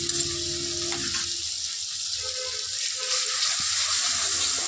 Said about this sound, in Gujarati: આ લસણ મરચાંની પેસ્ટ સતરાઈ રહી છે.